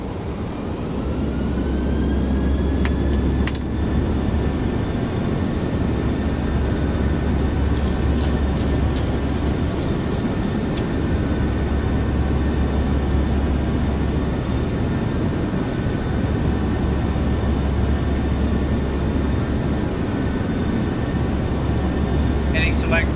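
Boeing 737-600 engines roar steadily at high power during a go-around in a flight simulator, a loud continuous drone with a low hum and faint whining tones throughout.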